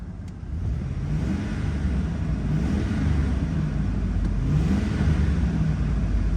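An Audi S4 engine revving at a salvage auction yard, a deep rumbling idle that climbs in two smooth rising revs and falls back, close and steady with no voices.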